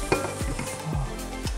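Vegetables for ratatouille fry in a pan with a constant sizzle, while a utensil stirs and scrapes against the pan in several distinct strokes.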